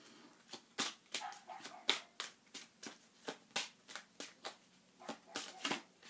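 Tarot cards being shuffled, handled and drawn, a quick series of crisp, close snapping and riffling bursts in an uneven rhythm with quiet gaps between.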